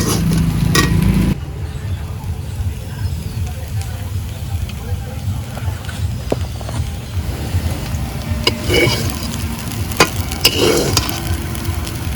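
Betho greens are stir-fried in a pan, producing a continuous low sizzle and hiss with occasional scraping stirs, close and steady throughout with no speech.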